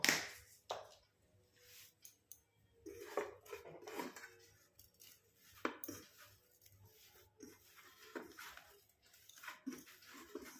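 Spiced filling for luchi and kachori being mixed by hand in a metal bowl, irregular close squishing and rubbing with clinks of the bowl, no voices.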